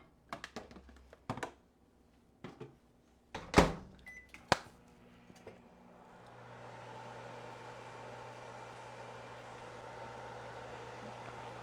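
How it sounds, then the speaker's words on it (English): A microwave oven runs while reheating cooked green beans, a steady low hum and whir starting after a few sharp clicks and beeps from the door and keypad, continuing evenly to the end. "I'm gonna put 30 seconds in the microwave."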